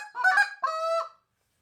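A handheld goose call blown by a caller gives two quick honking clucks followed by a longer, drawn-out moan, loud and close with nothing else heard.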